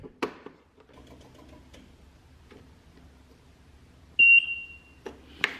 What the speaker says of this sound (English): once it starts, you'll hear a beep there